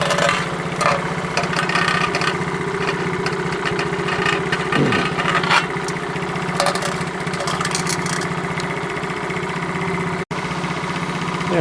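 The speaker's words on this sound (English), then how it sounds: "this chattering is the headlight. Dang it against the fender." A Honda S90 motorcycle idles steadily while its loose headlight chatters against the fender, a fast mechanical rattle riding over the engine's even hum, close and continuous.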